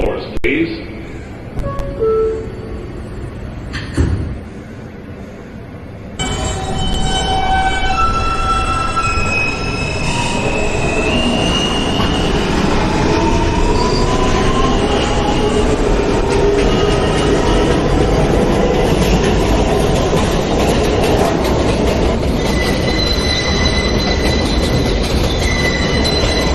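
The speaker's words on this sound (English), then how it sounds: "This is a Broadway Junction bound L train." A New York subway L train heading to Broadway Junction, with loud continuous rail roar, rattling and squealing wheels after the doors close, following a recorded announcement.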